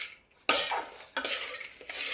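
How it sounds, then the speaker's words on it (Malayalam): Chicken noodles being stirred in a pan with pieces of fried chicken, giving repeated scraping and clinking of a utensil against metal in short bursts, close and fairly loud, with no talking. "അതും കൂടി ഒന്ന് മിക്സ് ചെയ്യുവാണേ."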